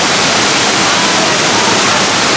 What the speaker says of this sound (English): You get to spray the water.